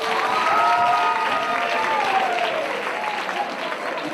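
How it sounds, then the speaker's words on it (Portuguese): Audience applause at a wedding ceremony in South Africa, a dense sustained round of clapping that fades slightly toward the end, with some voices mixed in. "Batam palmas."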